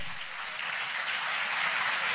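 An audience applauding at a Global Punjabi Association event, a steady dense wash of clapping from many hands that holds throughout at moderate loudness, with no voices.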